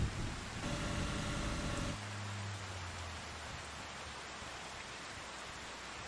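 Steady hiss of rainfall in the farming game Farming Simulator 25, a broad wash of noise that continues throughout, with a low droning tone and some brief layered sounds in the first two seconds before settling into even rain.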